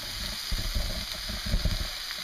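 Vegetables stir-fried in a pan give a steady, close sizzle with soft thumps and scrapes of stirring about every second, with no voices.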